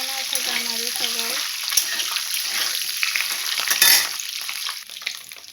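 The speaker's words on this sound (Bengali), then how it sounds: "ডিমগুলো একটু ভেজে নেব।" Eggs fry in a pan, giving a quiet, steady crackling sizzle with a brief clatter of stirring near the middle and a short talking voice at the start.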